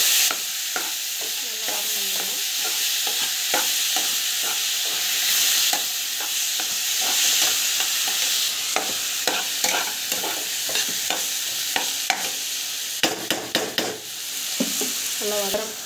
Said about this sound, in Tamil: நல்லா வதங்கிட்டு ஸோ டமாட்டோ வந்து ஆட் பண்ணிக்கலாம்